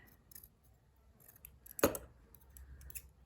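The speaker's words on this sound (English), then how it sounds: "cut it a bit smaller to fit" A single crisp snip of scissors cutting soft wadding to size while making a fabric box, close and quiet against faint handling rustle.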